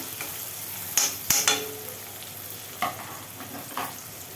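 Tomato frying in hot oil for a Karnataka-style susla, a continuous close sizzle punctuated by a few quick spatula scrapes and taps against the pan.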